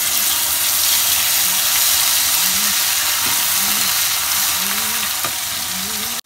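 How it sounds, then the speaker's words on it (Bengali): A ginger, garlic, onion and green chili paste sizzles and fries steadily in a hot pan, a close, continuous hiss with faint stirring scrapes throughout and a brief knock near the end. "আদা রসুন পেঁয়াজ আর কাঁচা লঙ্কা আমি একটু ফ্রাই করে নেব।"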